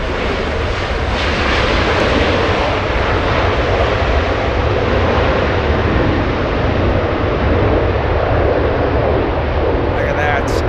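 An Airbus A330 heavy jet rolls out on runway 24 right at Los Angeles International Airport, a loud, continuous engine roar with reverse-thrust rumble that holds steady throughout, heard alone.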